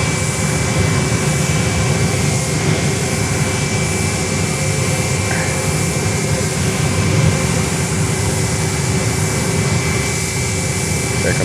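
A JetBlue Airbus A320 landing at Fort Lauderdale airport gives a loud, steady broadband jet roar with a constant whine, holding for the whole stretch, with talk mixed in faintly.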